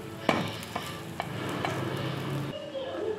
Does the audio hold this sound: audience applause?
no